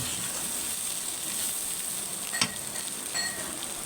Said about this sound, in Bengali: জিরার গুঁড়ো দিয়ে আমি এখন 2 মিনিট মতো নাড়াচাড়া করে নেব।